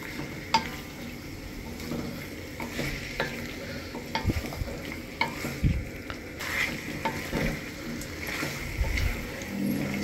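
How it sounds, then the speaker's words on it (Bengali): Meat and spices being stirred for biryani in a sizzling pan, a steady frying hiss under repeated scrapes and clacks of the spoon against the pot, fairly close, with no talk. "গোস্তটা খুব ভালোভাবে মশলার সাথে মিশাইতে হবে।"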